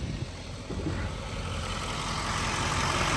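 A 2020 Chevy 4500HD service truck's engine idles steadily with a low, even rumble and constant broadband hiss, close and alone with no talk.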